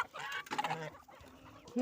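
Hens cluck and chatter close by in short, uneven bursts, with a few sharper calls mixed in.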